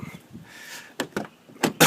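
A 2006 Toyota Sequoia door is swung open hard against a door check, giving a few sharp clunks and clicks close by, with no one talking.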